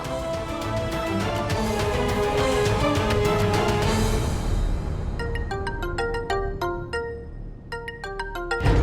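A phone ringtone plays a repeating electronic melody, loud and close, first over a dense musical texture and then alone in distinct chiming notes.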